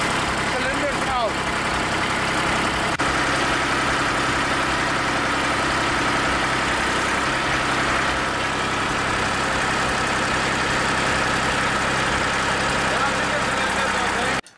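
The donkey motor of a Spider v2 lift starts and settles into a steady idle, a loud, continuous engine drone that holds even and close throughout.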